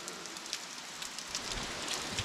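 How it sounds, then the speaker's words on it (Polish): Steady rain falling outdoors during a short trip in Czechia, a dense even hiss of drops on surfaces with a few louder patters, no voices. "No to pada."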